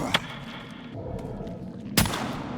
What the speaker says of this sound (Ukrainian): Та ж куди ти стріляєш?